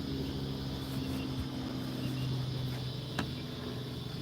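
Steady low rotor drone from a distant helicopter, faint and continuous beneath a humid indoor room tone, with one brief sharp click near the end.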